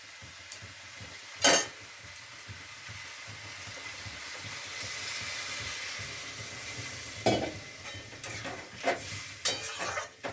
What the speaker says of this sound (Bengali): এবার আমি একটু জল দিয়ে দেবো, সামান্য পরিমাণে জল দিয়ে একটু ভালোভাবে ফুটিয়ে নেব